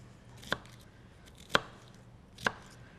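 A knife dices bell pepper on a cutting board with three crisp, evenly spaced chops about a second apart, close and distinct against a quiet kitchen background.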